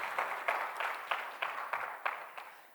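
Sparse, faint applause from a conference audience at a droidcon Android development talk, a handful of claps in an uneven rhythm, distant and thin, with no voices.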